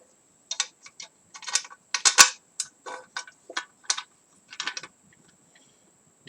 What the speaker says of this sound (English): So just putting the screws in, getting ready to put this airbox back on.